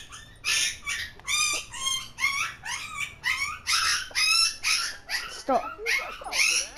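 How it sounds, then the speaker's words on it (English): A puppy in the Watch Dogs video game gives a string of high, yelping whimpers and short barks in quick bursts, close and fairly quiet. A voice speaks briefly among them. "Yeah, it's a puppy."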